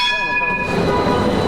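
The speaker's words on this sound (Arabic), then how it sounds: "لا قطار ورا قطار، قطار ورا قطار، شيء ما بيهدى يا معلم." A passing train on a railway line in Istanbul, heard close and loud with a sustained horn-like tonal blare over a rumbling rolling roar.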